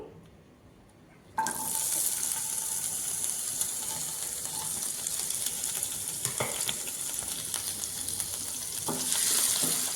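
Onions and green chillies drop into hot oil and start to fry, a sudden loud sizzle that stays strong and close, with occasional stirring clatter over it.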